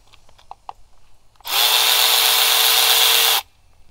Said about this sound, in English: We're just going to go ahead and loosen that bolt.